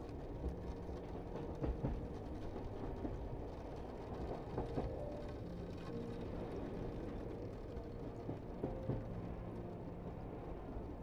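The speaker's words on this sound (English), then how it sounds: "You lie there for another moment listening to the train" A night train travelling across Sicily rumbles on steadily, a continuous low rolling drone with faint rhythmic clunks and brief squeals running under the whole stretch.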